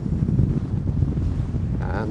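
Strong wind at the Mirador del Rio viewpoint on Lanzarote buffets the microphone in a loud, low, continuous rumble with gusty swells, while a faint voice briefly appears near the end.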